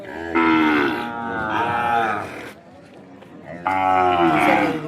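Ongole cow calves at a cattle market moo loudly in long, drawn-out calls, two strong bellows with a lower grunting stretch between them, close by amid market background noise.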